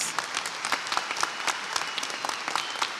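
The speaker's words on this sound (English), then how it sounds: "I do ask that we give them another round of applause, please." Another round of applause fills a hall at an Honors Day convocation, steady and crowded clapping at moderate loudness with no gaps, some individual claps standing out.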